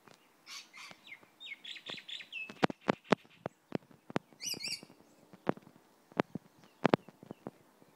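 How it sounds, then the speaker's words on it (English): Parrots give a series of sharp, loud chirps and squawks in irregular bursts, some as clipped single calls and others as quick repeated notes, heard close and clear against a quiet background. "Beautiful parrots."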